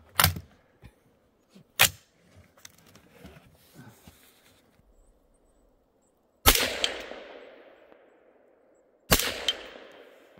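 Four sharp, loud rifle shots from a tactical rifle at a shooting range, each with a trailing echo, separated by quieter stretches of handling clicks and rustle.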